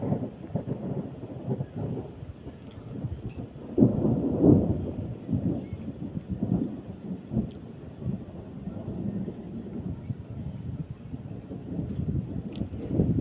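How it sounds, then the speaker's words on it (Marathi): Low rumbling thunder rolls through steady unseasonal rain during a windstorm with lightning, with a louder swell partway through and wind noise in the background; no voices. "विजा मारत आहेत"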